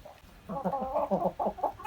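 Chickens cluck nearby in a henhouse in a quick, uneven series of short calls.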